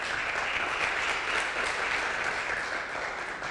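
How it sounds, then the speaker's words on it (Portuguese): Church audience gives sustained, even applause, a dense wash of many hands clapping with no voices over it. "Vamos dar um forte aplauso para acolher as pessoas que estão online."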